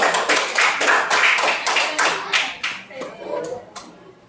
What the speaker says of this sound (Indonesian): kasih semangat, tepuk tangan dulu dong